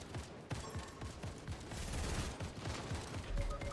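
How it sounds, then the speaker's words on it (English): A gun in a video game fires continuously in rapid automatic bursts, a dense, loud rattle of shots that carries on without a break for several seconds. "Oh, why did my gun not stop shooting then?"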